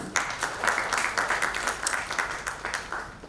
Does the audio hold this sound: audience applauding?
yes